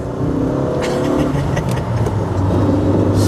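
A Mercedes W123 with a manual gearbox accelerates, its engine note rising and holding steady as heard from inside the car, loud and continuous with no talk over it.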